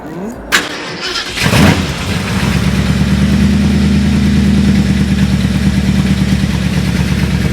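A custom car at a show in Łódź cranks briefly, then its engine catches and settles into a loud, steady idle, close by, with a person's voice heard around the start.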